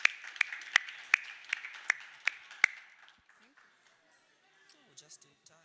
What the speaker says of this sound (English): Can we have a round of applause for everyone today?